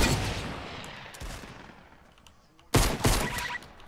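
Video game gunfire in a multiplayer shooter: a rapid burst of loud close shots at the start, a pause, then another sharp volley of several shots near the end.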